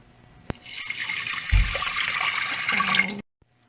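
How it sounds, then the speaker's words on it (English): Water and rice pour steadily into a cooking pot for old-fashioned rice pudding, a continuous close splashing rush lasting about three seconds before stopping abruptly. "we'll make it and pour it in there with some water"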